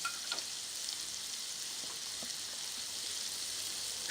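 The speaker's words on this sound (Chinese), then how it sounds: "现在把白葡萄酒淋进去，然后收汁。" Scallops pan-fry in butter with white wine, giving a soft, even, continuous sizzle that sits fairly faint and steady throughout, with no voices.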